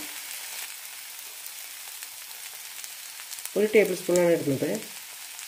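Carrot and grated coconut sizzle steadily in a pan, a low continuous frying hiss, with a brief spoken line near the end.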